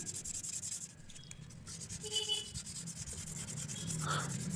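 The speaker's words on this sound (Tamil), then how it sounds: "நம்ம இந்த உப்பு தாள் வச்சு நல்லா தேய்ச்சி எடுத்துட்டு" Sandpaper scrubs a car's flywheel during a clutch replacement, making a steady, faint, broadband scratching that runs continuously with slight stroke-to-stroke swells.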